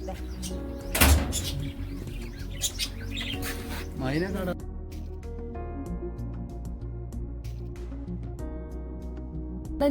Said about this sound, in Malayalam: ഭയങ്കര കുറെ കിളികളൊക്കെ ഉണ്ട്